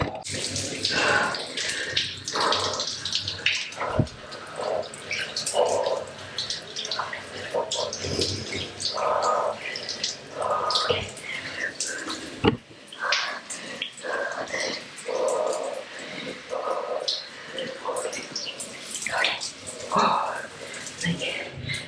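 Water splashes and pours steadily in a home cold plunge bath, with a person's breathing and voice mixed in throughout.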